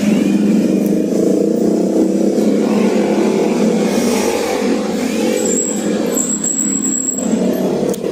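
A loud, steady motorcycle engine drone with a rough low rumble, idling and revving nearby, with no voices.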